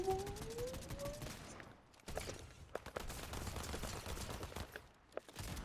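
Pump shotgun blasts in the Fortnite video game, a few sharp shots and scattered gunfire at moderate distance, with no talk.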